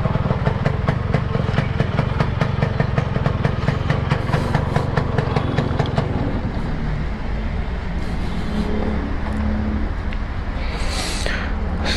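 A Yamaha RXZ motorcycle runs at an RTO sound check, its engine firing in a steady rapid pulse up close before settling into a smoother idle, with faint voices in the background.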